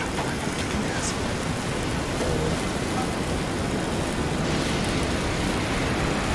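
Loud rain in the video game Worlds Adrift: a dense, steady hiss of downpour with a low rumbling undertone, continuous and unbroken for several seconds.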